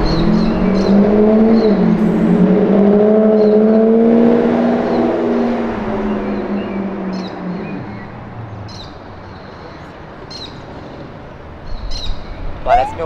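A Chevrolet Opala custom-built by Chip Foose rumbles and revs with rising and falling engine tones, loud at first and then fading back, while faint bird chirps come through near the end.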